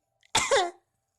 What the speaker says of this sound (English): With an awkward cough.